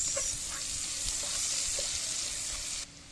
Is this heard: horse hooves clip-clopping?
no